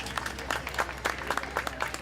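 Brief burst of audience applause for a community concert band at an outdoor July 4th patriotic program, quick dense clapping at moderate distance.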